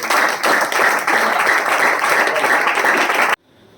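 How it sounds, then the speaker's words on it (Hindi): Loud, dense applause from an audience at a company's 20th anniversary event in India, a steady wash of many hands clapping for over three seconds before cutting off abruptly into near silence. "एक बार ताली जरूर बजाइए।"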